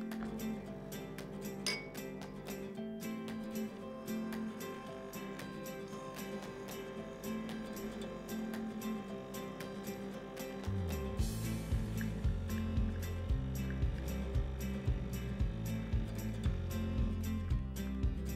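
Delonghi La Specialista EC 9335 M coffee machine brewing espresso, a low mechanical whir that turns into a louder pulsing pump drone midway, steady and close.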